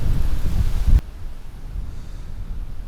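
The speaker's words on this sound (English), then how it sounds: "It is indeed a bit windy" Strong wind buffets the outside of a camper van parked at a high-wind wild camping spot in the UK, a heavy low rumble that drops suddenly to a quieter, steady blustery hiss.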